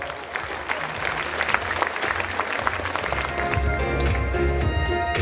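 Audience applause at a town sports gala builds into loud, dense clapping from a large crowd, with low rumbling music or crowd noise swelling underneath toward the end.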